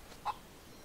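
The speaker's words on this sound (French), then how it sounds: "Voilà, vous avez trouvé une poule." A single faint cluck from a hen in the DayZ video game, very short and distant, over quiet background hiss.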